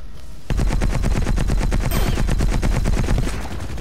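Sustained machine gun fire in the video game Battlefield Heroes, a loud, rapid, evenly spaced stream of shots starting abruptly and continuing for several seconds without pause.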